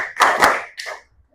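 A classroom of students claps a short rhythmic pattern together, a few sharp, close group claps in quick succession followed by silence.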